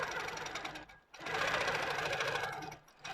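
A longarm quilting machine stitches straight down along a quilt's binding edge, a steady close mechanical whir with a brief pause near one second and another dip just before the end.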